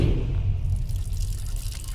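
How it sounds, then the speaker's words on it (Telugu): Water runs steadily from a broken household tap that will not shut off, a continuous close splashing flow with no talking. "నువ్వెంత కట్టినా ట్యాప్ ఆగదమ్మా, అది రిపేర్లో ఉంది"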